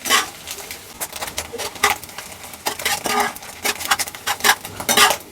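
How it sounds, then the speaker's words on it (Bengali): Egg, chilli and garlic mixture frying in a pan, with a utensil tapping and scraping the pan in quick, uneven bursts, close and fairly loud over a faint background hiss. "পুরো মিশ্রণটাকে আমি আরেকটু ভেজে নিব।"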